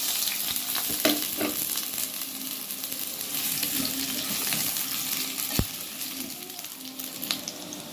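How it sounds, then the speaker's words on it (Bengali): Potatoes fry in hot oil in a pan for a Bengali chicken kosha dish, giving a steady broadband sizzle that runs throughout with a few soft clinks and stirring knocks and no talking. "তেল আমার গরম হয়ে গেছে, আলুগুলো দিয়ে দেব।"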